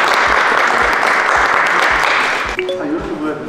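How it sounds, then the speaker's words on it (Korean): Energetic audience clapping, loud and close, fills the first few seconds before cutting off abruptly, after which light talk and small sounds follow. "박수 한번 주시죠."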